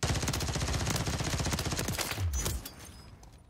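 Pistol gunfire in a Call of Duty match on Rebirth Island, probably a Glock with a switch, heard as a rapid automatic stream of shots that runs for over two seconds, then stops as quieter game sounds continue.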